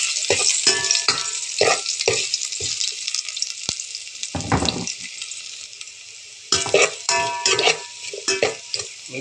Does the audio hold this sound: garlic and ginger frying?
yes